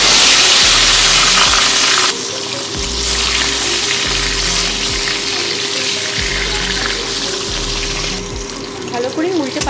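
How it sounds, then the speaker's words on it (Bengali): Koi fish rubbed with salt and turmeric frying in hot oil for a tel koi dish, a loud, continuous sizzle close by, with occasional dull knocks and small bumps of the pan under the spitting oil. "গরম হয়ে গেছে, মাছগুলো আমি ভেজে নেব।"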